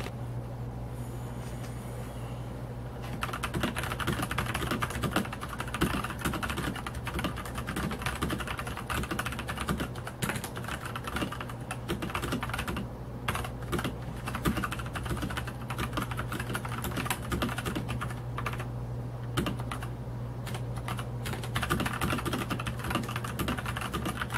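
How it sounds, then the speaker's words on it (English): Fast typing on a Velocifire TKL01 mechanical tenkeyless keyboard, a continuous stream of crisp, close key clicks beginning after about three seconds over a low steady background hum, with no talking. "let's give it the typing test."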